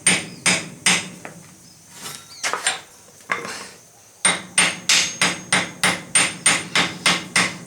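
Ball peen hammer striking a rivet head held in a vise, sharp metallic blows, a few scattered taps and then a fast even run of about a dozen strikes, close and loud.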